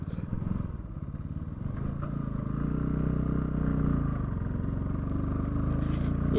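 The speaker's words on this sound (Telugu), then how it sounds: "అదే మనతోటి వస్తున్న ఇంకో బైక్." A second motorcycle riding alongside drones steadily close by, a low rumbling engine hum with faint rattles, continuous throughout without voices.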